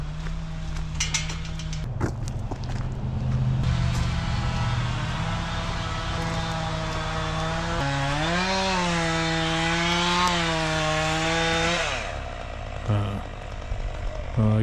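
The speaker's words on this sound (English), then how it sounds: "It's like I hear a chainsaw in my yard." A chainsaw engine drones steadily, rising to a higher, wavering whine through the middle before dropping back to a lower idle.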